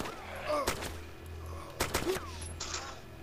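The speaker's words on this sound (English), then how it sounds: "Shoot them." Gunfire at zombies in the DayZ mod, with two sharp, loud shots about a second apart and a fainter burst afterward, set against steady low game ambience and occasional faint voices.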